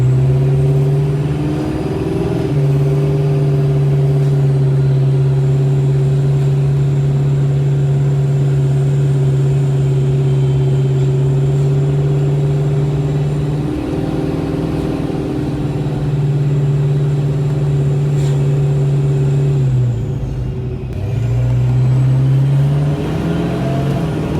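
A supercharged Ford Foxbody with an automatic transmission pulls at wide open throttle: a loud, steady engine drone with a strong low hum, dipping briefly twice as the gearbox shifts, with no talking.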